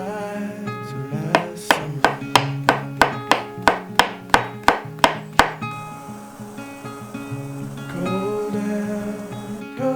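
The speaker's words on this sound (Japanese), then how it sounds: "人参は千切り、椎茸は軸を落として半分に切り薄切りにしておく" Kitchen knife chopping carrot into fine julienne and slicing shiitake mushrooms on a cutting board, a quick run of about a dozen evenly spaced crisp taps over soft background music, then the cutting fades.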